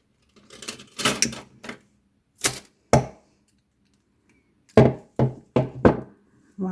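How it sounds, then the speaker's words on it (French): Scissors cutting yarn from a crochet amigurumi chicken: several sharp, close snips in two short bursts separated by quiet pauses. "Maintenant, je vais couper le fil."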